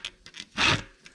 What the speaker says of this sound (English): File straight as you go across.